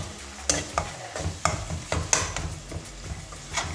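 Ground spices with chili powder, cumin and coriander being stirred and fried in a karahi for chole, giving soft scraping stirs and a gentle sizzle in a steady rhythm, close by with no talk.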